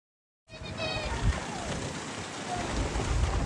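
Heavy rain driven by cyclone winds sweeps across war-damaged Gaza. A dense, steady hiss and patter fills the air, with gusting wind, and the sound grows slightly louder toward the end after a brief silence at the start.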